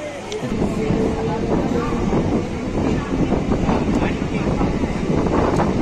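A Sealdah–Ranaghat local train pulls out of Naihati Junction with a steady, dense rumble and rattle heard from inside the carriage, loud and unbroken, with wind noise over it.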